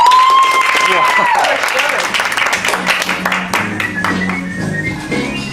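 Loud conference audience applause and cheering, with a piercing whistle at the start, dense clapping that continues as voices chatter and the crowd noise gradually settles.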